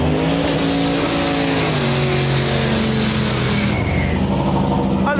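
A truck races at a no-prep drag race in Western Canada, its engine roaring loud and close at high revs with shifting tones and tire noise, continuous throughout.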